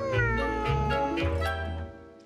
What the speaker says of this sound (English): That's right, I'm a cat.